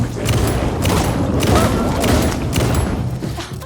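Rapid gunfire in the video game Alan Wake 2, loud overlapping shots and booms in dense bursts filling the moment, close and heavy.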